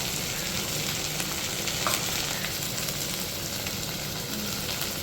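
Onions frying until reddish-brown in a pan, with a spoonful of ginger paste added, for a Bengali pointed gourd and prawn curry; a steady, dense sizzle runs throughout without pause, with no voices.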